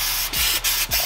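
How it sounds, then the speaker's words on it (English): Three quick hissing bursts of anti-corrosive oil sprayed over the engine bay of a two-stroke Sea-Doo during winterization, close and evenly spaced, with no talking. "I take my anti-corrosive oil and I spray literally everything, like the whole engine"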